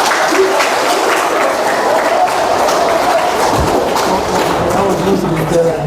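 A crowd at a welcome ceremony in Potowaiburu applauds after a pastor is introduced, a dense, close round of clapping that runs steadily for several seconds with voices mixed in.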